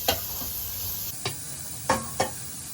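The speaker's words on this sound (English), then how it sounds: "So we are going to put our bacon" Chopped bacon sizzles in a pan, a steady close frying hiss broken by a few short clatters of stirring or utensil knocks, no speech.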